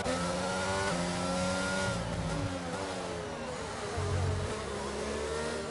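An F1 22 race car accelerates hard on a safety car restart, its high engine whine climbing through gear after gear in stepped, rising tones, loud and steady with other cars droning underneath.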